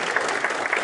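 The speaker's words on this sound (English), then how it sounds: "Let's give them a round of applause for all of their hard work." A conference audience applauds at a medical session on urothelial bladder cancer and prostate cancer, a brief, dense, steady wash of many hands clapping in a hall.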